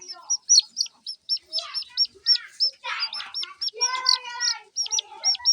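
Continuous high-pitched peeping from small chicks, rapid and repetitive, close by, with some lower chattering mixed in.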